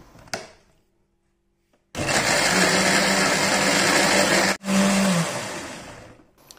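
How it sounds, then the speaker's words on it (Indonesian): A nearby blender whirs loudly, grinding spices continuously, stops briefly, then runs again before winding down; no talking. "bumbu sudah selesai kita blender, kita haluskan"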